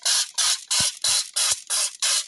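Seven rapid, evenly spaced hissing bursts of Bremol cleaner sprayed onto a screen-printing screen, loud and close, each spray short and sharp with brief gaps between.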